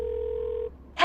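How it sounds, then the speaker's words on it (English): Cartoon telephone dialing tones: one steady near beep held for about two-thirds of a second, a brief pause, then a short bright burst of the next tone. "Cliffhanger calls the Get Me Off This Cliff helpline number."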